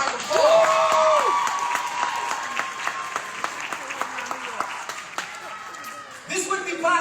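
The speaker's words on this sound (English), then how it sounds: "I'd like to give her a round of applause" Applause from an audience at a speech: loud, continuous clapping from a crowd with some cheering mixed in, while voices carry over it and tonal sounds rise and fall through the middle.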